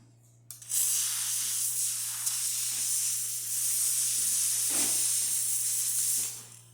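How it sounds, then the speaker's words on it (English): Steam wand on an Elektra Microcasa espresso machine hissing steadily and loudly for several seconds, a continuous bright rush that starts abruptly and cuts off near the end, heard alone. "So let's test the steamer."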